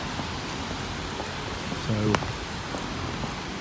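Steady rain on a London street near Downing Street, a continuous soft hiss filling the background while someone briefly speaks.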